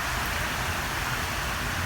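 Steady heavy rain hisses at Redfern railway station in Sydney, a dense unbroken wash of noise filling the scene throughout, with no voices.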